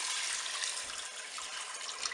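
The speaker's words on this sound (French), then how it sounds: "Je vais recouvrir d'eau." Water pours steadily into a Cookeo multicooker pot over lentils, a continuous close hiss of running liquid.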